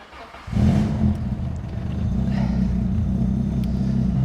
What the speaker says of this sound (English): the custom headers and the custom exhaust mean that we have a pretty loud car